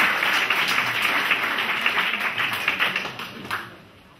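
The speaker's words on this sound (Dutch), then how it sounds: "een groot applaus voor onze openingsact" A theatre audience at a 2016 revue applauds the opening dance crew, steady dense clapping that carries for about four seconds before tapering off, with no talking.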